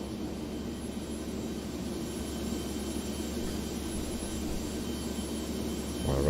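A simulated jet engine in the X-Plane 12 flight simulator gives a steady, loud, broadband roar with a high whine, holding level and swelling slightly at the very end, with no talking.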